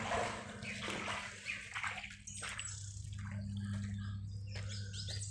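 Wading through deep water inside an old train tunnel: steady sloshing and splashing from legs pushing through the water, with drips and echoing gurgles over a constant low hum, close and continuous.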